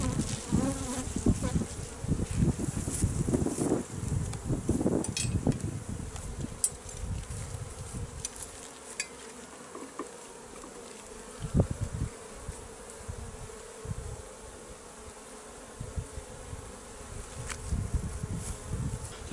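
Honeybees buzz steadily around an open beehive being prepared for winter, a dense continuous drone with occasional louder passes of individual bees close by and clicks of hive handling, no voices.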